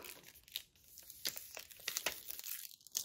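Crinkly peeling and crackling of a cardmaking piece being lifted from its backing, several short papery bursts spread across a few seconds at close range with no voices.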